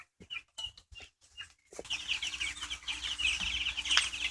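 White broiler chicks in a brooder pen cluck and peep in a steady dense chatter, starting after a few handling thumps and then continuing close and loud for several seconds.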